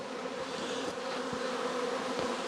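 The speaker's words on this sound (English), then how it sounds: "There's a lot of bees in here." Honeybees in an opened hive box humming as a steady, close buzz with a low droning tone that holds evenly throughout, no talking.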